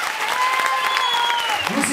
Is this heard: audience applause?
yes